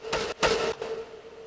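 A synth from the first drop of an electronic track fires in short, bright, noisy stabs over a steady mid-pitched tone, with a reverb tail fading out after the last hit.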